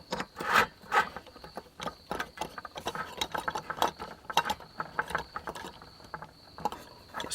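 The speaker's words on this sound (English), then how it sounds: "let's go ahead and put it on an isobutane canister" Small metal clicks and scraping as a FireMaple gas lantern is screwed onto an isobutane canister, a quiet, close series of irregular mechanical ticks with faint hiss in the background.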